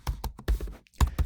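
Quick keystrokes on a computer keyboard while code is being written, a handful of sharp, close clicks in an uneven burst with a short pause before the last few taps.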